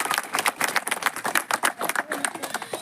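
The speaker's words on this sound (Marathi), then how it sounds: "त्यांच्यासाठी जोरदार टाळ्या वाजवून स्वागत करायचं." An audience at an outdoor neighborhood inauguration function claps in welcome, a dense patter of many hands close by, continuous throughout.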